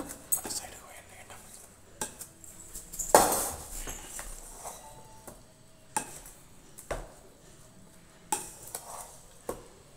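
Spoon clinks and scrapes against a pan or bowl while cauliflower rice is stirred together with coriander leaves, several sharp taps at irregular intervals amid soft stirring.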